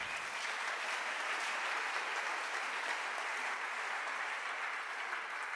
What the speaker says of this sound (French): Acclamons ses frères.